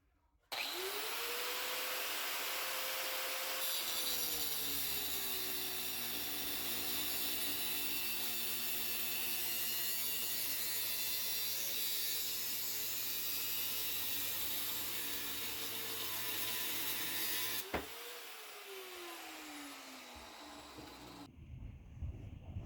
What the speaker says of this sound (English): I'm going to go ahead and cut these down with an angle grinder, and then I'll probably just grind them flat